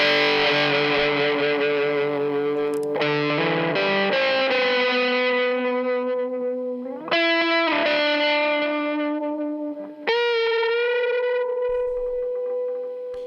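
A soloed electric guitar track plays a distorted, sustained lead line with bending notes and echo, loud and alone with no talking.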